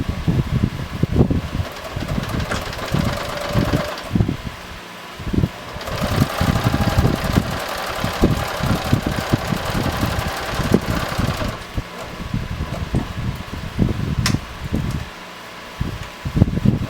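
A sewing machine stitches Velcro onto a homemade laptop bag in quick bursts of whirring motor and needle, pausing and starting again, close up and with no talk.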